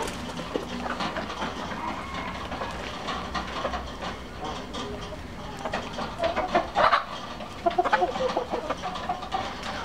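Several hens cluck and squawk close by, with a burst of louder calls toward the end, over a steady background rumble.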